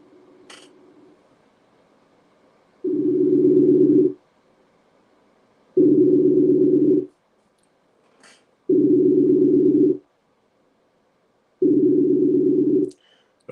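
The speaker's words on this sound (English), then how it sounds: "I'm dialing him in now." A phone line rings out while a caller is dialed into a live stream: four evenly spaced ring bursts, each about a second long, with quiet gaps and faint clicks between them.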